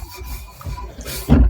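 Grease and grime on an old vise are scrubbed off in short, rough rubbing strokes, ending in one louder rasping scrape.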